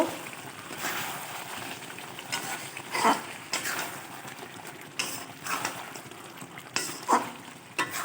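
Chicken pieces fry in a pan as they are stirred with cumin powder for a wedding-style chicken kosha, with a steady sizzle and irregular scraping bursts close by.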